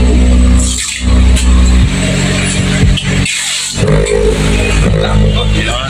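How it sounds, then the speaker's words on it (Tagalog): Bass-heavy music plays loud through a Joson Stage 18-2 speaker driven by a Sun 3.0 power amplifier. The booming low end is thick and distorted, with a few brief dips, and no vocals come through. "Bass yung pinatugtog kasi mga boss, kaya ganyan ang tunog, walang boses lalabas."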